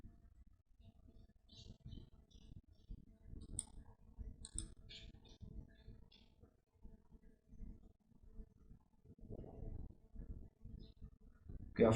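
A computer mouse clicks in short irregular bursts while a crypto withdrawal screen is worked through, the taps close and faint with quiet gaps between them and no talk.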